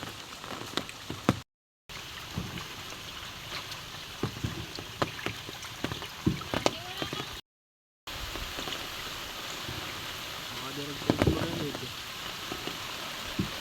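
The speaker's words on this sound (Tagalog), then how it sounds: "Naulan po ngayon." Rain pattering steadily on a boat's roof and the water around it while out catching crabs and shrimp, a dense hiss with scattered drops and knocks, broken by two short silent gaps.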